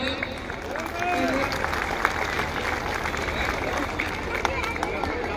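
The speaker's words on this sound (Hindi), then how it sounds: "जोरदार तालियों के साथ स्वागत करेंगे।" A crowd at an outdoor religious gathering in Sirsi applauds a guest's welcome with steady, dense clapping that holds through the whole stretch, while a voice talks over it.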